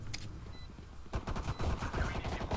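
Rapid gunfire exchange in a Valorant match, with quick bursts of shots clustering into a dense volley after a quieter opening second, fairly close and sustained to the end.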